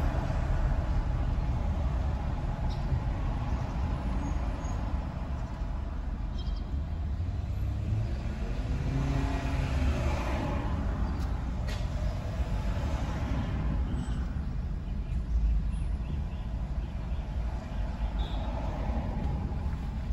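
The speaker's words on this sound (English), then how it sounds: "there is some traffic on the road now" Road traffic on South Camp Road in Jamaica behind a truck hauling chickens, a continuous low rumble of engines and tyres with a vehicle swelling past midway, steady and without talk.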